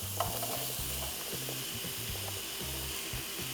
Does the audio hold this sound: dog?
no